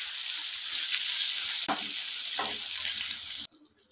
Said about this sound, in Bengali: বেগুনগুলো খুব ভালো করে ভেজে নিতে হবে